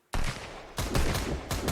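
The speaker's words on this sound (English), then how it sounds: "they have a machine gun and can shoot while swimming" Machine gun fire in the survival video game Sunkenland, loud and close, in rapid sustained bursts with a few short pauses between volleys.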